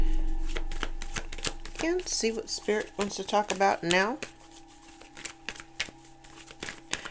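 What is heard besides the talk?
shuffling a deck of cards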